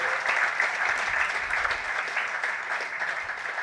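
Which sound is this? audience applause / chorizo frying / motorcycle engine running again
audience applause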